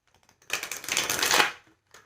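A deck of tarot cards riffled in one quick close burst lasting about a second, a crisp papery flutter that rises and then stops.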